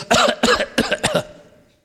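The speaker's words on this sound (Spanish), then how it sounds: "Todo el mundo a toser." Four harsh coughs in quick succession, loud and close, followed by a fading echo; it sounds more like one or two people than a large crowd.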